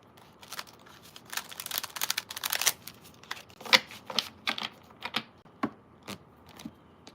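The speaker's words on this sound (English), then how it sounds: "One more shuffle." A tarot card deck is shuffled by hand in quick riffles and taps, a run of crisp close bursts followed by several separate snaps, with no speech.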